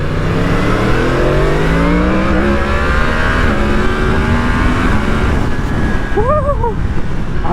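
A Yamaha MT-10's crossplane four-cylinder motorcycle engine revs loud and close, its steady roar climbing in pitch through several rising sweeps, with a couple of short chirpy tones near the end.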